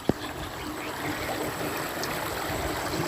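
Floodwater from heavy rain runs through a farm field in a Gujarat village, making a steady rushing, gurgling flow nearby. It opens with a brief knock and continues without talk.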